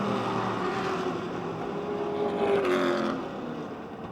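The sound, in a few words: race cars racing around a speedway track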